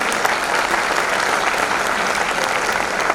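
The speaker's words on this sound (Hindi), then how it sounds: "मैं पूरी आयोजन समिति के लिए एक बार चाहती हूँ आप सब सम्मान की तालियां बजाइए" Steady, dense audience applause fills the hall at a Hindi poetry recital honouring martyrs, clapping for the organising committee. The sound is loud and continuous from start to finish, with no speech over it.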